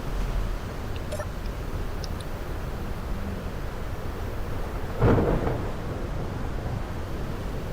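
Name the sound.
thunderstorm in Space Engineers video game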